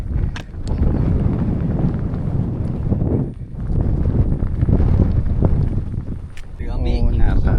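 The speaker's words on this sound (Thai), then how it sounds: "อยู่นี่มีแต่หมอกกับลม" Steady, loud wind buffets the microphone on a misty mountain cliff top in a forest, a continuous roar with gusts throughout.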